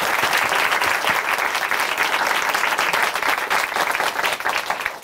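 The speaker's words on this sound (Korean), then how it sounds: "우리 주님께 감사의 박수 한번 올려드릴까요?" A church congregation claps in sustained, dense applause that holds evenly for several seconds and fades slightly at the end.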